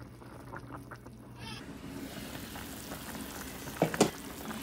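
Food boils in a pot of salted water with chicken powder on a stove, giving a steady bubbling sizzle with a few sharper pops near the end.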